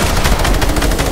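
Rapid gunfire from the video game Fortnite, a dense continuous burst of shots filling the whole moment, loud and close.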